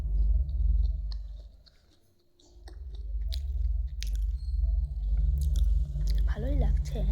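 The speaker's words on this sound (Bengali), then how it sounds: "আমি তো ছুরি ছুরি খেলাম লঙ্কাগুলো।" Someone chewing and crunching chillies, close, wet bites and crunches repeating irregularly with a brief pause, mixed with background voices.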